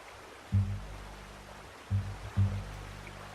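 Three low splashing thumps as a character wades into water in Red Dead Redemption 2, arriving in a short uneven sequence over a faint hiss, with no talking.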